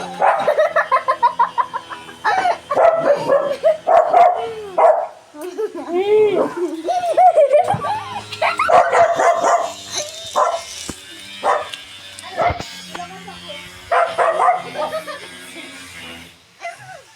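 A dog barks and yips repeatedly nearby in uneven bursts, with whimpering sounds between and people talking around it.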